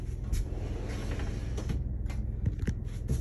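Sliding interior door inside a Fuzion 369 toy-hauler trailer rolling along its track, a rumbling glide broken by a few light clicks and taps.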